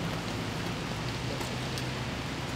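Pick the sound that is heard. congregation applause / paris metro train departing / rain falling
rain falling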